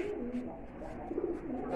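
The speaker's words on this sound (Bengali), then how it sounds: "এই পাশে একটা কবুতর আছে" A male pigeon cooing at a bird market stall, low soft coos rolling continuously under the market hubbub, close to the listener.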